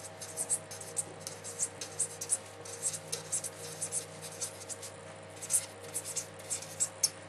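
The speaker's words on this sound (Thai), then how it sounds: "พี่จะเขียนวงจรใหม" A pen scratches across paper while a circuit diagram is redrawn, giving soft, close, irregular strokes and taps over a quiet room hum.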